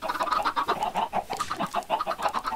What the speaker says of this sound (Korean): 와 우리 닭도 되게 많이 키웠어요.